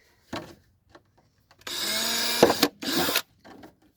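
A power drill bores a pilot hole into a plastic jug in a few close bursts, the main whirring run lasting about a second, followed by a shorter burst, with small handling knocks around them.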